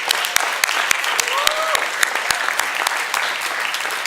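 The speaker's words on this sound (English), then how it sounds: "let's do a round of applause to all the women in the house" A dense wash of audience applause fills the room steadily, loud and close, with a few voices calling out faintly beneath the clapping.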